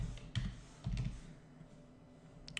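Quiet computer keyboard typing in short bursts of a few key clicks, with pauses between and a brief clatter near the end.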